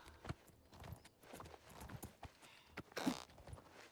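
Wild horses' hooves in a video game clip-clop in quick, uneven beats, several animals walking close by at a moderate volume with one sharper rustle near the end.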